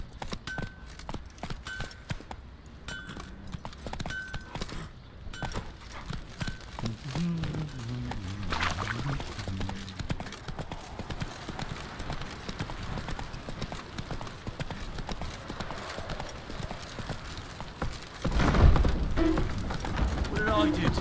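Horse hoofbeats from Roach galloping in The Witcher 3 come as a continuous rapid clip-clop over a long stretch, steady and mid-distance, with a voice speaking in places.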